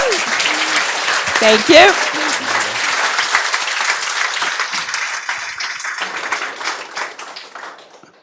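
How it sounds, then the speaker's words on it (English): An audience at a tech demo day gives its panelists dense, steady applause that gradually tapers off, while a voice briefly speaks over the clapping. "I think a big round of applause for them."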